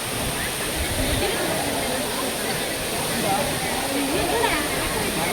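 Kudlu Falls sends down a steady broadband roar of falling water, constant and fairly loud, with faint voices blending into the rush.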